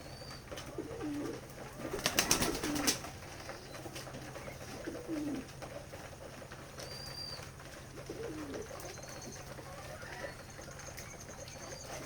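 Pigeons coo softly at a pigeon farm near Jessore while being fed, with scattered low coos, a brief burst of fluttering wings, and faint pecking and shuffling noises in the background.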